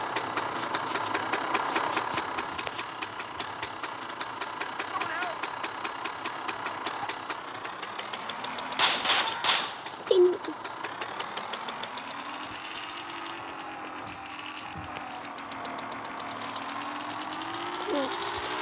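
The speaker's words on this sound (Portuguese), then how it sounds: "Uma moto lenta da miséria" A slow motorcycle engine idles unevenly with a chugging, knocking rumble throughout, nearby and moderately loud, with a brief louder burst partway through.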